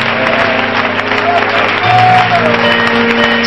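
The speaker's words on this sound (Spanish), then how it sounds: "Sigue aplaudiéndole, sigue aplaudiéndole." Congregation applauding during a fiery Spanish-language sermon, a continuous clapping texture from the crowd mixed with sustained tones of music or organ underneath, loud and steady.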